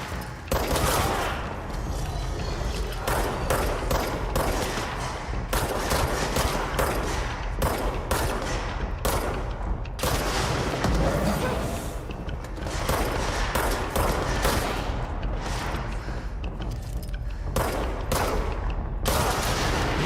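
Rapid gunfire from the video game Control, dense bursts of shots crackling almost continuously for twenty seconds at steady loudness, with no talk over it.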